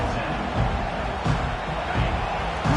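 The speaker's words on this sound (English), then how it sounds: "Listen to the crowd energy here in the early going." A college football stadium crowd at an Alabama versus Miami game roars as a dense, rumbling mass of cheering and babble, steady and loud with a few swelling surges throughout.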